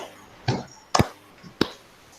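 A group playing a clapping game claps in unison, with three sharp, loud, near claps spaced roughly half a second apart and quiet gaps between them. Nobody speaks.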